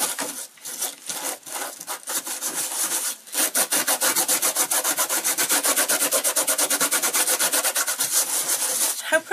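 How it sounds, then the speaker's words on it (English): Salt being rubbed off a painted background on paper, a close, dry scratchy rubbing that starts in irregular strokes then settles into a fast steady back-and-forth rhythm, loud and without speech. "But what you do, just rub the salt off."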